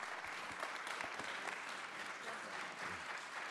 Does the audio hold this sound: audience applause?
yes